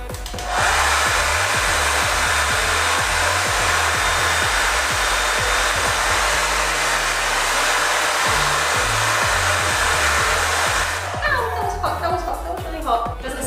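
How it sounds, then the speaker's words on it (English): A hair dryer blows steadily and loudly on thermal colour-changing dyed hair, a broad continuous whoosh with rustling as the hair is moved, then the dryer cuts off near the end. "Alright, I'll give this a dry and watch the magic happen"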